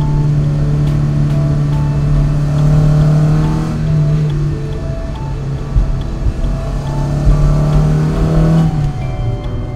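A vintage Lancia car's carbureted engine revs loudly and steadily up close, a throaty Italian exhaust note that rises, dips slightly, and holds with some rattling mechanical texture throughout, without voices.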